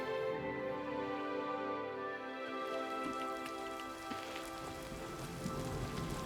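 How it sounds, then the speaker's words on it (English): Steady rainfall in the fantasy game Oblivion Remastered, a continuous dense patter of drops on surfaces with occasional sharper splashes, fairly faint and even throughout, no talking. "Why is it always rainy early in the morning?"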